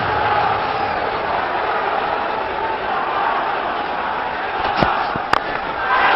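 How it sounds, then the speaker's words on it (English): A cricket stadium crowd at a Pakistan versus South Africa semi-final roars loudly and continuously, with a couple of sharp cracks or bangs breaking through near the end. "The crowd are up, and South Africa have got to try and silence them"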